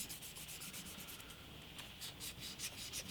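Sandpaper is rubbed back and forth over the bridge of an antique parlour guitar in quick, even strokes, a close, soft scratchy rasp that repeats without pause.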